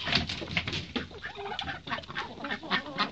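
Chickens and turkeys in a small farmyard give off irregular clucks, squawks and flutters, close and busy, with no talking over them.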